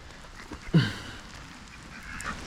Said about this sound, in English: And chickens are interested.